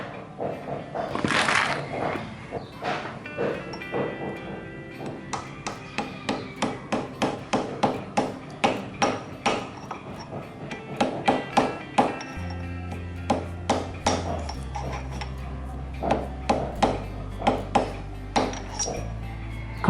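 Repeated hammer blows drive a modified socket wrench to seat an oil seal in a Super Cub engine, sharp metallic knocks in an irregular then steady rhythm, close and clear, with a low hum joining partway.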